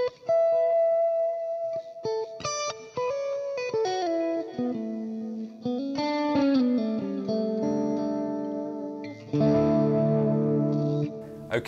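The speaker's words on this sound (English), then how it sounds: "I think the highest that an Echoplex can go is 750 milliseconds." Electric guitar run through an Echoplex-style delay modelled on a Fractal unit, set around 650 ms with a left-right time ratio: melodic phrases and chords trail off in repeating echoes that spread apart, sustained and fairly loud throughout.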